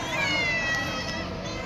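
A cat meows at a barangay anti-rabies vaccination, a drawn-out tonal call heard fairly close over a soft background murmur.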